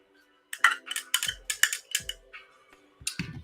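A cranberry apple fizz mocktail is stirred in its glass, producing a quick series of close, crisp clinks and taps that come in uneven bursts.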